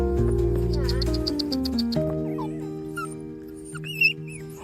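A stray mother dog with a limp whimpers and yips in thin, high, wavering cries near the end, over sustained musical tones.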